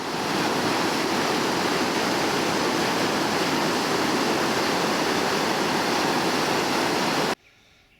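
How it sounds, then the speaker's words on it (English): Water pours steadily over a river weir on a stretch of barbel fishery, a loud, continuous rushing roar with no letup that cuts off abruptly to near quiet at the very end. "this is the weir"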